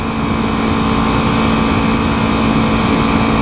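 A motorcycle engine runs steadily on a test ride after a new Vortex rear sprocket and D.I.D. chain were fitted. It holds a constant, loud drone with an even tone at moderate throttle.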